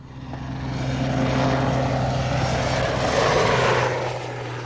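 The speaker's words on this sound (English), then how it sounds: "First came a helicopter inspection of our boat." A helicopter drones steadily overhead during a boat inspection in the 1983 US invasion of Grenada, its rotor hum swelling and then slowly easing, with no other sounds.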